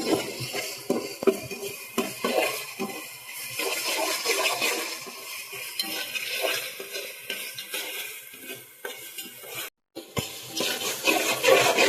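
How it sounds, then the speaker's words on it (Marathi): Onions sizzle as they fry in a pan while being stirred, with steady crackling and scraping of the spoon against the pan, close and continuous. "कांद्याला एकदम असं लालसर कलर येईपर्यंत त्याला ढवळत राहायचंय"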